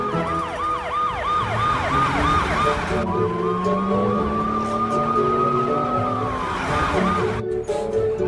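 Cartoon ambulance siren wailing loudly and steadily, sweeping up and down, then settling into a long rising tone, with a faint vehicle hum underneath.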